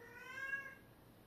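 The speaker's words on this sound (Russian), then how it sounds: "у кошки опять помешательство буйное" A female cat in heat meows once, a drawn-out, faint wail that rises and fades, with no other sound around it.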